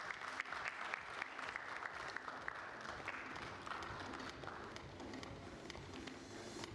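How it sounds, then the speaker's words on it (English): An audience at a food summit applauds, with many hands clapping steadily in a dense patter throughout. The clapping is faint, as if heard from the back of the hall. "Can we have a huge round of applause, ladies and gentlemen?"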